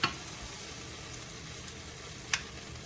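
Flour and butter cooking in a pan as the base for a cheese sauce, giving a soft steady sizzle with a couple of brief stir clicks, fairly quiet and with no voices.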